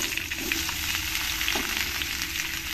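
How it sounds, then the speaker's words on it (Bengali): Cut ivy gourd and potatoes fry in a pan, a close, steady sizzle with a faint stirring scrape partway through. "এখানে আমি যে কুদরি আর আলুগুলো কেটে নিয়েছি এইগুলোকে আমি ভেজে নেব।"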